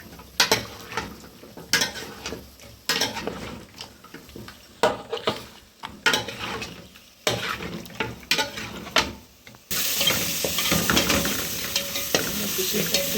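Onion and tomato sautéing in a pan for a home-cooked meal, with repeated scraping stirs of a utensil against the pan in irregular bursts, then a loud, continuous sizzle taking over near the end, close and without talk.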